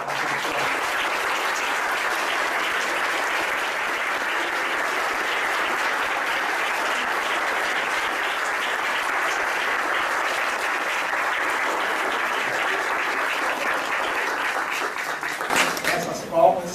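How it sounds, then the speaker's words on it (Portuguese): Audience applause after a lecture, a dense, steady burst of many people clapping that holds evenly for about fifteen seconds, then breaks off into a few scattered sounds and nearby talk. "Essas palmas são uma fada."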